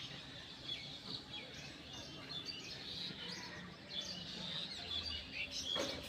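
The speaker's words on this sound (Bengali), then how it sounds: "ছাদের ওপর কত রকম পাখি কিচিরমিচির ডাক" Assorted birds chirp and tweet from a house rooftop, a steady faint chorus of small calls spread across the scene over soft outdoor background noise.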